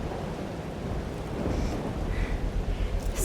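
Thunderstorm ambience in the video game Life is Strange: Double Exposure: a continuous wash of pouring rain with a low rumble swelling louder toward the end, no speech.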